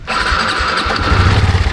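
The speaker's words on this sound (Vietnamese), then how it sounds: "Còn đây là tiếng nổ của RSX của mình." A Honda Wave RSX motorcycle, nine years old, starts up close by, and its engine settles into a steady idle with a low rumble that lasts the rest of the brief moment.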